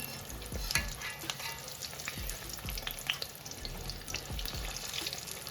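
Chilli bajji frying in hot oil with a steady crackling sizzle, interrupted by soft scraping and stirring knocks as the fritters are flipped in the pan.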